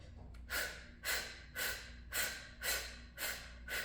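A person demonstrates breath of fire, a rapid yogic breathing exercise, with seven sharp, evenly spaced nasal exhalations that sound close and forceful, each one a short whooshing puff.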